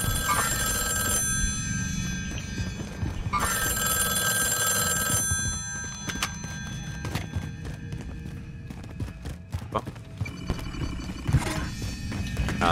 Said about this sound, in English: I'm trying to answer the phone. Where's it at?